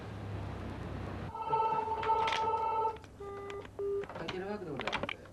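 A telephone at a complaint call service, with electronic ringing and dial-tone beeps in short tonal bursts, fairly loud and close, with speech-like chirps near the end.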